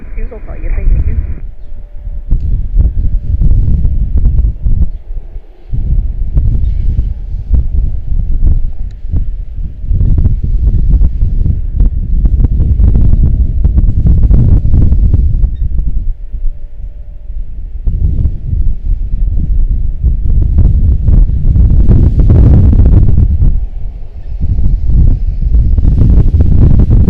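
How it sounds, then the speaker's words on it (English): Strong wind buffets the microphone at Washington Dulles International Airport, a loud, continuous roar of low rumbling gusts that swells and dips over half a minute, with faint radio chatter barely emerging early on. "Don't think I can take much more of this wind"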